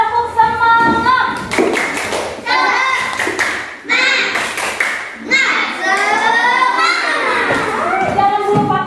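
Children in a classroom do a rhythmic spirit clap, sharp hand claps in patterned bursts mixed with chanting, sung voices and the occasional thump, close and lively.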